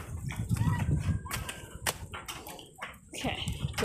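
Chickens in and around a muddy backyard coop cluck and squawk repeatedly in an irregular, busy chorus, fairly close, mixed with rustling and movement noise.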